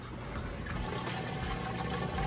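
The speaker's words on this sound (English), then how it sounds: "it's running the drain now, draining out that wash water" A Whirlpool Amana washing machine drains its wash water with a steady rushing, gurgling flow and a low pump hum, continuous and close with no speech.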